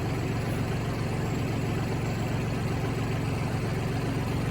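A Kubota L3301 tractor engine runs at a steady idle, a continuous low rumbling drone with no breaks or changes in pace throughout.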